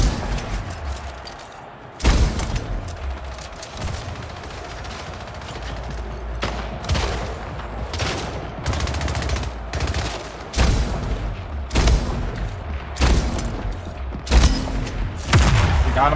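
Gunfire from the video game Splitgate, with loud, sharp bursts of shots in quick clusters and short pauses between volleys, close and dominant with no talk.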